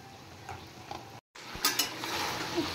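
Chicken dropped into half-fried onions in a pan and stirred, with soft scraping and clinks of a spoon against the metal over a low frying hiss, a brief dropout midway, no talk.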